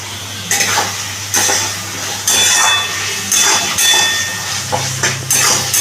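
A spatula or spoon scrapes and clanks against a pan in repeated strokes as egg chilli with onion, capsicum and green chilli sautés, over a soft steady sizzle.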